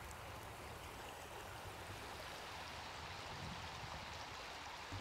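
A stream feeding the Varenne river flows in a quiet fishing spot, an even, soft rushing burble of water that runs on steadily with no voices.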